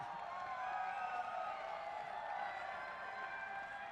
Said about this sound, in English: Best applause I got all day.